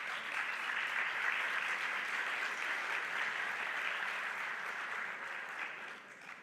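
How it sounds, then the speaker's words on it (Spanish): Steady applause from an audience honoring the panelists of a university conversation forum, a dense even wash of clapping that holds for several seconds before easing slightly at the end. "Un aplauso para ellos."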